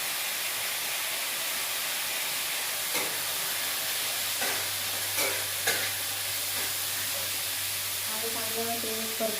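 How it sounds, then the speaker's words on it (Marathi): Sprouts with turmeric are sautéed in a pan with a continuous soft hissing sizzle. A few scraping stirs break in, and faint tonal sounds appear near the end. "ते सगळे स्प्राउट हळद टाकून परतून घ्यायचे।"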